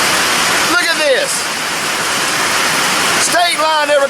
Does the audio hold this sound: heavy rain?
yes